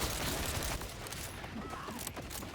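Jakobs pistol shots firing in Borderlands 4, a dense run of repeated gunfire bursts with game combat noise, loud and continuous throughout without talk.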